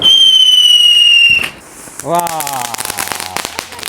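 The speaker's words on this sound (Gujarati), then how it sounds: "આપણે પપ્પાને લાલ ફટાકડા આપી દીધા છે તો એ ફોડે છે" Red Diwali firecrackers burst at close range, a loud bang followed by a run of crackling pops and fizzing bursts, with a whistling shriek before it and a short exclamation from a voice.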